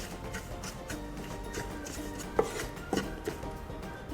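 Turmeric and coriander powder get a quick stir in a hot pan for Punjabi samosa chaat, giving soft close scraping with a few sharp clicks of the spoon against the pan.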